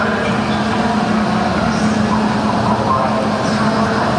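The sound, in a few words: train at São Bento station in Porto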